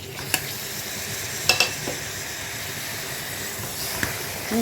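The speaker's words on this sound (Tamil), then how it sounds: "இப்போ இதெல்லாமே நல்லா பெரட்டி விட்டுக்குவோம்" Mutton pieces on the bone are stirred and fried in a pan for a village-style mutton kuzhambu, giving a steady close sizzle with a few sharp scraping knocks of the spoon against the pan.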